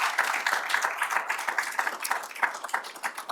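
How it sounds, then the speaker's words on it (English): Steady round of audience applause at a Meet the Mayors event held at Hudson Valley Community College, brisk overlapping hand claps at moderate loudness with no talk over them. "if you give them a round of applause"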